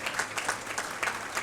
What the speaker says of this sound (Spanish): un aplauso para nuestro segundo panelista.